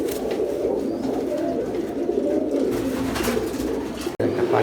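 Pigeons coo continuously at a pigeon farm, a dense chorus of overlapping low coos close by, with a brief knock near the end.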